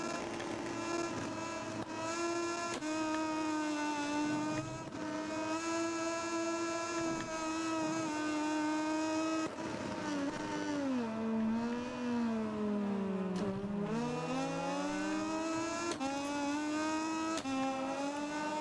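Moto2 racing motorcycle engines in the video game MotoGP 20, a steady high-pitched whine that rises and falls with gear changes, loud and continuous with no talk.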